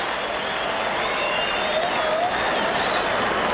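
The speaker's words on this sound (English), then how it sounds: "First time we've heard from the crowd since the end of the national anthem." A baseball stadium crowd at a 1992 Yankees at Royals game roars steadily after a base hit up the middle, with whistles rising over the sustained, distant cheering.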